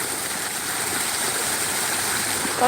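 Flowing water, likely a waterfall or stream, rushes continuously and loudly close by, a steady broadband wash with no pauses.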